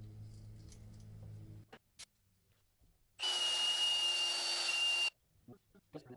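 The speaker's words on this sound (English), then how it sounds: "I like the dry sanding because it seems to take more of the material off" A brief burst of dry, gritty sanding on glass with 240-grit paper, lasting a couple of seconds, set among quiet handling noises.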